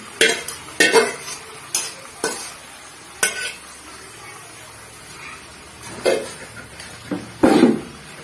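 Chicken curry cooking in a pan, with a spatula stirring and scraping in intermittent bursts over a soft sizzle, close by and without speech.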